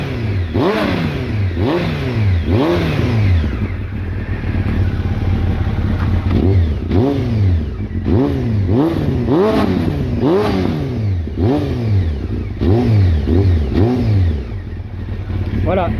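A 600 cc motorcycle engine is revved repeatedly while stationary, its exhaust rising and falling in loud, rhythmic blips that climb to about 6000 rpm, close and dominant.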